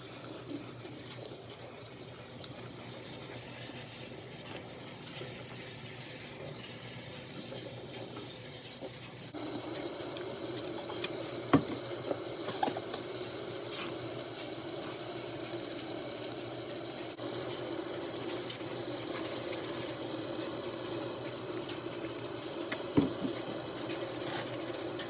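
Tap water runs steadily to rinse bleach out of wig hair, a faint continuous rushing that grows slightly louder midway, with occasional small knocks and splashes.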